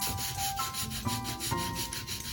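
A baby wipe is rubbed back and forth across a sticky Cricut cutting mat, making a steady, dense scrubbing and rasping sound that is close and continuous, with no talking.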